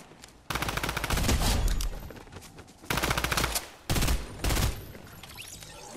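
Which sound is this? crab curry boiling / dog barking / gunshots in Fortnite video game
gunshots in Fortnite video game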